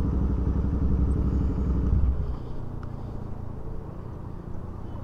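Royal Enfield Interceptor 650 motorcycle fitted with an altered exhaust, a loud, deep throbbing engine rumble close by that drops to a lower, steadier idle partway through, with no talk.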